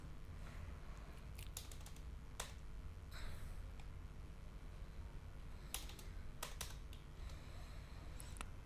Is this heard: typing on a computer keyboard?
yes